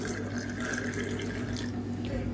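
Nookal (kohlrabi) juice pours steadily into a cup with a continuous liquid splash and trickle, close and moderately loud throughout.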